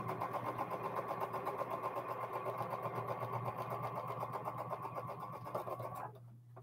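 Sewing machine stitching quilt blocks of colored and novelty fabric into a row, a fast steady mechanical whir with rapid rhythmic clatter, close and continuous until it stops near the end.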